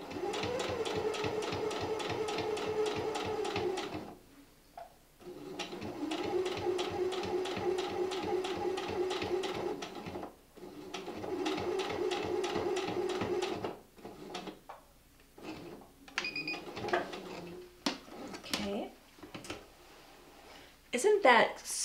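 Domestic sewing machine stitching a cathedral window fabric pillow, running in steady rapid bursts of mechanical chatter with short pauses between runs, close and fairly loud, with a few clicks and handling noises near the end.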